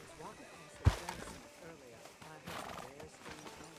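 Horse hooves in the Red Dead Redemption 2 video game, outside a sheriff's office, with one sharp thud followed by soft, uneven steps mixed under game characters' speech.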